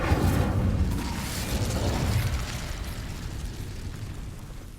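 An Incendio fire spell is cast in the video game Hogwarts Legacy, producing a loud fiery whoosh and roar that bursts at the start and then tails off into a rumbling crackle, with no talking.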